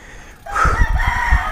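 A rooster crows close by along a rural trail, one loud crow rising out of quiet background noise.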